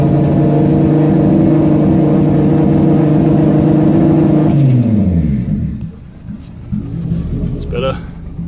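A car engine idles loudly and steadily while a cap is recharged during an ultracapacitor test, then its pitch sweeps down and the rumble fades to a quieter idle.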